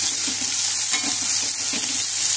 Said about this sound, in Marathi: त्याला छान परतू द्यायचं।